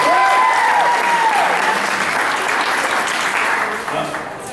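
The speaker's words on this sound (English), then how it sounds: "Give her a round of applause" An audience at the opening of a convention breaks into loud, dense applause that holds steady, with a few voices and cheers rising over it before it begins to fade toward the end.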